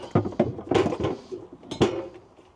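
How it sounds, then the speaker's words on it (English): Kitchen clatter as a chopping board is taken out beside a Kadak double hob cooker: several close knocks and rattles of dishes and wooden boards, in irregular bursts, with no voices. "I'll get the chopping board out as well"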